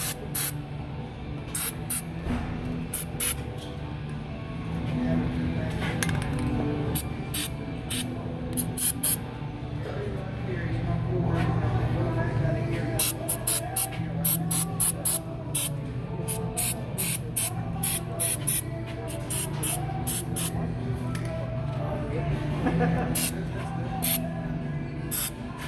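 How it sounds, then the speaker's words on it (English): An aerosol can of white lithium grease is sprayed over rusty pickup running boards in many short, sharp hissing bursts with brief pauses between them. Close and fairly loud, with a low hum and faint activity underneath. "Just spray that shit everywhere."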